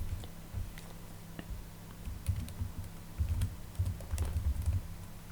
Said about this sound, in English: I'm going to type my password in.